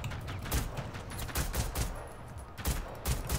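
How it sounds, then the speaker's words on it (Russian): An enemy robot in Generation Zero fires a fast, dense volley of gunshots that crackles continuously and loudly throughout, with no talking. "Метко стреляет"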